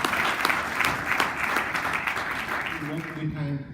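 Applause fills a hall at an annual speech contest, a crowd clapping in a sustained, even wash for several seconds before a speaker begins talking as it dies away.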